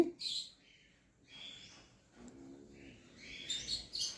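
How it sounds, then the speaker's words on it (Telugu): Yellow golden finches in an aviary give short, bright chirps in a few scattered bursts, fairly close and moderately faint, with quiet gaps between calls. "ఇది ఒక వెరైటీ ఎల్లో గోల్డెన్ ఫించెస్"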